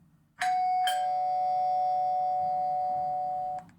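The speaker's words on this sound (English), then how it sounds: "Oh, a doorbell." A two-tone doorbell chime sounds alone, close and clear: two quick strikes followed by a long sustained ringing tone that holds for about three seconds before cutting off.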